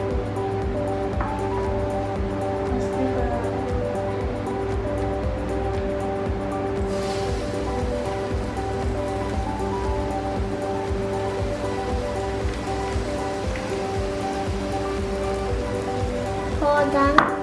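An egg fries in a hot pan while a pizza is being made, giving a steady crackling sizzle like light rain with a faint low hum beneath it throughout.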